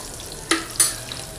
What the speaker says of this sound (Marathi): त्यानंतर कांदा टाकून घेऊया